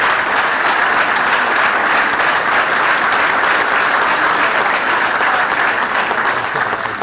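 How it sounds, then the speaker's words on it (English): Sustained, dense applause from a large congress audience fills the room for the local and IRF organising committees, loud and steady throughout with no break. "I'd like you to give a huge round of applause to the organising committees"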